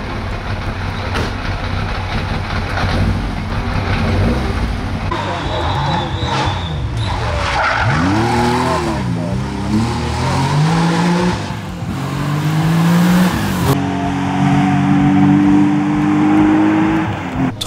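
A Porsche 911 rally car races a stage of the 2021 East Belgian Rally, its engine note rising and falling through repeated revs and gear changes, loud and close beneath a narrator's steady commentary.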